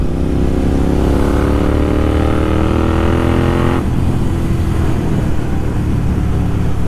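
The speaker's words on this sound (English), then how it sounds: "the more you rev it, right, the moment it goes above 4000 RPM, the sound of this vehicle changes like crazy." A Royal Enfield Interceptor 650 motorcycle fitted with a Red Rooster exhaust revs hard and close, its pitch climbing steadily before dropping back to a loud, rough idle rumble.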